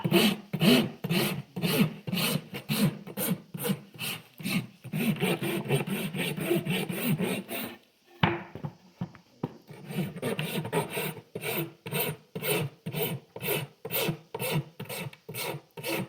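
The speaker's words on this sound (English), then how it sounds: "I'm going to touch with the smooth side of the rasp just enough to roll that edge." A horse's hoof worked with a farrier's rasp, giving close, rhythmic rough scraping strokes in a steady back-and-forth pattern with a short pause midway before the strokes resume.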